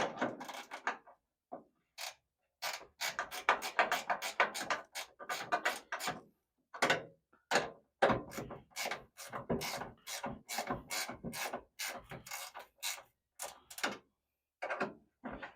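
Ratcheting wrench tightening bolts on the rear quarter glass window of a 1967 Pontiac Firebird or Chevy Camaro, rapid rhythmic clicking bursts with brief pauses, close and clear.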